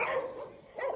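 A dog barks twice in quick succession, fairly close, with a whiny, yelping tone.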